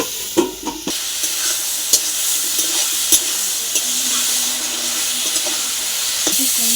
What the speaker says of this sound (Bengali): ভালো করে ভাজা হয়ে গেছে